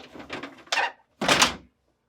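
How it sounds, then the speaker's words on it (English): The vegetable drawers of a GE refrigerator slide out and lift free in two short, close plastic scraping and rattling bursts, with a quick rattle before them and silence afterward. "Pull the drawers out so that they are fully extended, tilt up and pull forward to remove."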